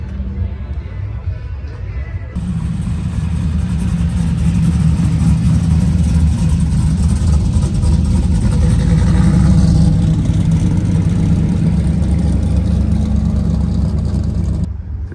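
Pontiac drag car on slicks with its engine running loud and close, a deep, steady roar that swells and rises in revs over about fifteen seconds, with a quieter rumble before it opens up.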